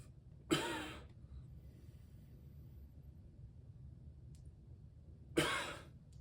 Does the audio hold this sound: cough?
yes